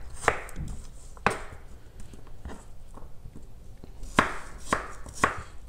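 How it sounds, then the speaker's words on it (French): A knife chops apples finely on a board for a galette des rois, giving about eight crisp, separate knocks at an uneven pace, with a quiet pause between bursts. "on va les couper plus fin, on va les tailler plus fin"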